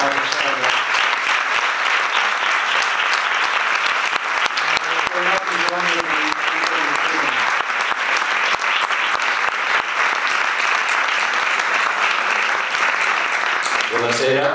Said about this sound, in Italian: vi chiedo un grande applauso per il maestro